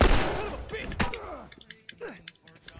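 A loud gunshot from The Last of Us Remastered opens with a heavy boom, then a second sharp crack follows with lingering echo, mechanical clicks and a brief voice-like sound in the quieter tail.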